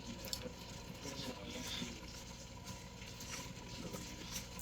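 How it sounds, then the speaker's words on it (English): UV resin with Pearl X pigment is poured into a snowflake ornament mold, giving a faint, soft liquid trickle with small drips and clicks close by. "And I'm just gonna pour it in the mold"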